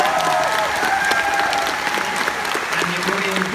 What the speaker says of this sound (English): Please give a massive round of applause to him.